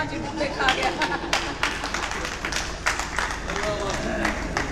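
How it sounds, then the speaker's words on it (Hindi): A handful of audience members clap at a Hindi poetry recital in Bhiwani, giving sparse scattered claps over a murmuring crowd while someone talks over them. "देखिए 2-4 आदमी तालियां का सारा लोड ले रहे हैं।"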